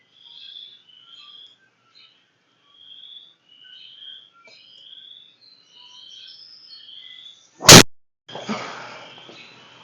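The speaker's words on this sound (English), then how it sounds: "Those crickets are kind of loud." Crickets chirping on The Cliffs at Glassy golf course in the GSPro simulator: repeated high, thin trills at an even, moderate level, broken by one sharp thwack of a golf strike followed by a short rushing noise.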